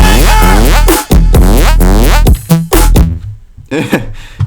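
A grimy trap lead synth built in Serum plays a demo phrase of gliding, pitch-bending notes over a heavy low bass, loud and up front, then trails off into sparse fragments.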